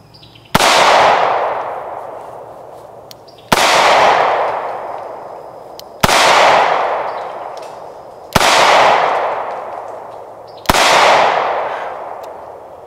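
A Charter Arms Boomer .44 Special revolver fires five loud, sharp shots at steady intervals of about two to three seconds, each blast followed by a long echoing decay outdoors.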